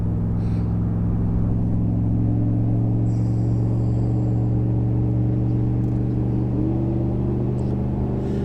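A 2019 Chevrolet Camaro SS with a 6.2-litre V8 and 10-speed automatic cruises down the road, its engine a steady, loud low rumble with a smooth drone throughout and a slight rise in pitch near the end.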